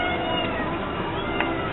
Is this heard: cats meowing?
yes